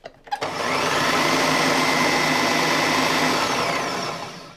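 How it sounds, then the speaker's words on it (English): A food processor blitzes a jalapeno chili in one loud continuous whirring burst lasting about four seconds after a few brief clicks at the start. "I'm gonna blitz that up quickly too."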